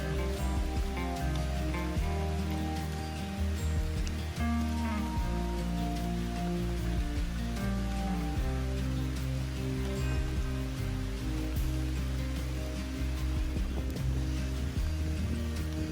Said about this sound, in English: It is raining again, so we'll have to contend with that.